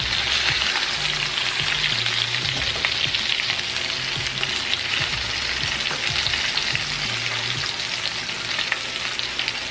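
Thick paprika-seasoned chicken thighs frying in a pan over a lowered flame, a steady close crackling sizzle with occasional pops and faint utensil clinks, no talking.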